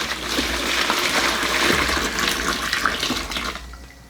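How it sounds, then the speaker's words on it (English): Brine liquid for a turkey pours steadily from a container into a plastic tub, a continuous watery splashing rush that holds for several seconds and then tapers off, with no talking. "Now I'm just going to pour the liquid into the container."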